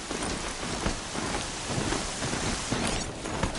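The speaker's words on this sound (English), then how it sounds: "Raining like it's trying to wash everything away." Heavy rain pours down in a dense, continuous hiss with scattered splashes and a faint low rumble beneath.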